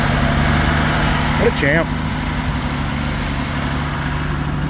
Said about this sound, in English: We have yet to take it for a test drive because it was idling high.